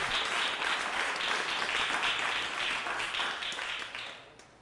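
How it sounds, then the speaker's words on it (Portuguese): Applause from a church congregation during an evening service, a dense steady wash of clapping that holds for several seconds, then thins and fades toward the end. "Dê mais um aplauso e louvor ao nome do Senhor nessa noite"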